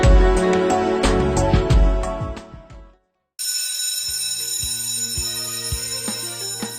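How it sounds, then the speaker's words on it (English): A school bell at Cochin Refineries School sounds as loud, ringing electronic tones in two bursts, dense and clanging at first, then cleaner chiming after a brief silence. "The bell is gone"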